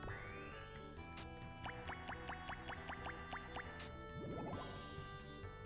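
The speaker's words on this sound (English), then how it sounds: "anytime we're holding these water droplets and you can hear this little drip drop sound" Little drip-drop chime from the Japanese role-playing game Beyond The Beyond, a rapid series of about a dozen evenly spaced bright plinks over the game's music, with a falling gurgling tone near the end.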